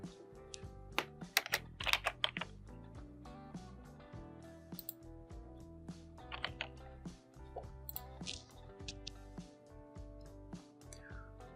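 An email address is typed on a computer keyboard: fast, close, irregular key clicks in bursts over a steady background tone, with no talk.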